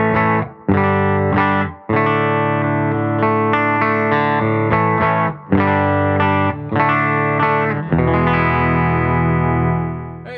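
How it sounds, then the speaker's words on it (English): An electric guitar with single-coil pickups, a Scythe Guitars OH20 played through a Silktone amp, rings out in loud clean-to-slightly-driven chords, several strummed phrases with short pauses and sustained ringing notes at the end. "Silktone amp sounds like this."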